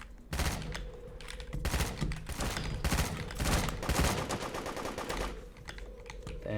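Rapid gunfire rings out in the Roblox game Da Hood, with repeated bursts of shots crackling back to back across the stretch at a moderate level, with brief gaps between volleys.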